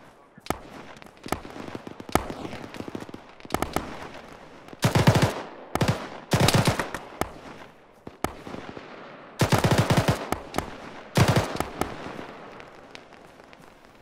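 Bursts of gunfire in the Arma military game: sharp, loud volleys and rapid automatic strings come in clusters separated by quieter gaps, with a few isolated single shots.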